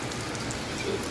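Rain falls steadily during the Philippine rainy season, a soft even patter of drops on surfaces, continuous and fairly quiet.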